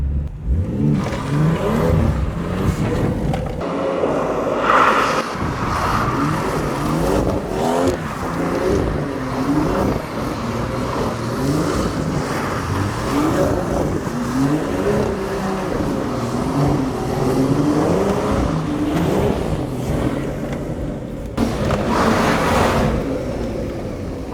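Car driving and accelerating on its first run with quick, light steering, the engine note rising and falling steadily and loud throughout, with road and wind roar filling the background.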